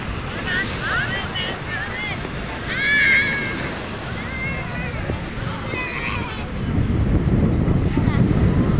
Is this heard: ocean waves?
yes